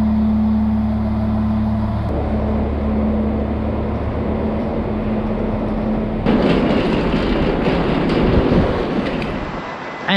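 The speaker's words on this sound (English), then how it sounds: "So there's a train in about 25 minutes." Train travelling on rails, a steady close rumble with a humming drone that cuts off partway, then a louder, rougher stretch of rolling noise and rattling carriages.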